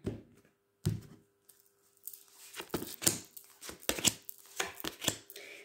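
A deck of playing cards is cut by hand in a quiet room, giving a few soft riffled slaps and paper flutters in short separate bursts, close and fairly faint.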